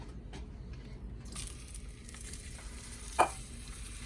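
Zucchini fry in a pan with a quiet sizzle that grows a little brighter partway through, broken by a single short clink near the end, with no one speaking.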